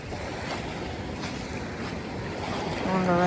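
Ocean waves at a beach in Jamaica, a continuous wash of surf under steady wind buffeting the microphone, rising slightly toward the end.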